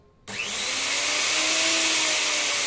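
A wood router, either a Maktec MT362 or a Skil 1827, switches on abruptly and spins up to a loud, steady high-pitched whine that holds close and constant.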